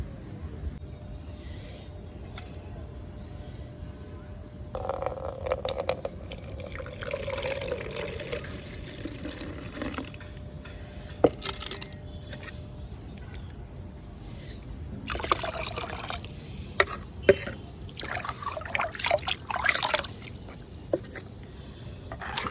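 Beetroot fertilizer solution poured onto potted rose plants, a steady liquid trickle and splash with louder gushing bursts around the middle and later, close by, no talking.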